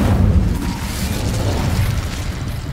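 A fiery spell blast in Hogwarts Legacy, a loud, full whooshing burst of fire that roars steadily for a few seconds without fading.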